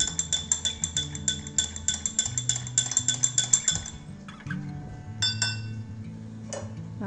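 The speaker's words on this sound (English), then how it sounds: "Stir it again to make sure that ruosa has dissolved completely." A spoon stirs a Rooh Afza drink in a glass, clinking rapidly and steadily against the sides for several seconds before slowing to a few scattered taps, close and clear with no talking.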